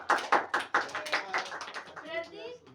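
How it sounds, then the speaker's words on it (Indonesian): A few classmates in a maths lesson clap in a short burst of separate, fairly quiet claps, fading as a voice begins talking. "kita beri tepuk tangan."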